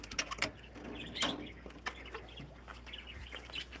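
Pheasants and other birds at a pheasantry near the incubator room give soft scattered clucks and chirps, with occasional wing flutters, faint against a steady low background hum.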